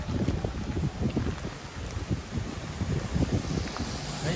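Strong gusts from Typhoon Kong-Rey in Taiwan buffet the microphone in heavy, irregular rumbling bursts, loud and close, with no talk.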